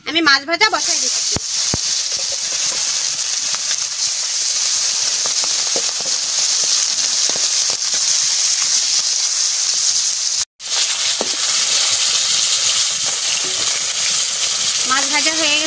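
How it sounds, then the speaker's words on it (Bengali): Large tilapia fish frying in hot oil in a kadai, a loud, steady sizzle and hiss lasting throughout with one brief dropout near the end, with faint voices under it. "তেল গরম হয়ে গেছে, আমি মাছ ভাজা বসাই দিচ্ছি।"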